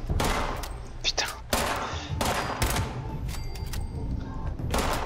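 Repeated gunfire bursts in the post-apocalyptic video game Fallout 76, sharp cracks in rapid clusters over a steady loud background, with a voice talking over the shots.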